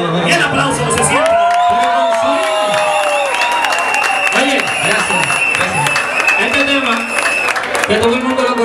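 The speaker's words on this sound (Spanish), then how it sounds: "Y el aplauso, se siente." A concert audience applauds and cheers at a live Latin music show opening, with a steady wash of clapping, whoops and crowd noise blended with music and a singing voice throughout.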